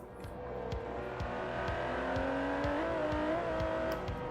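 A twin-turbo 5.2-litre V12 in an Aston Martin DB11, driven in Forza Horizon 4, revs through repeated upshifts, its tone climbing and dropping in a regular rhythm of gear changes, loud and steady with no voices.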